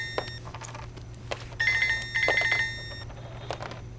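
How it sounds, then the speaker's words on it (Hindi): A telephone rings indoors in bursts of electronic trilling against a low steady hum, with some clattering background noise in between. "किसका फोन है?"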